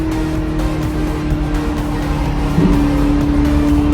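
McLaren sports cars on a mountain pass road, with a loud steady engine drone close by and a slight swell in intensity partway through as a car passes.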